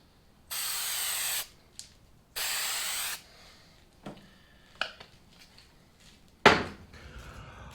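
Plasti Dip aerosol sprays onto a car emblem in two long, close hissing bursts, followed by scattered small knocks and clicks of handling and one sharper tap near the end.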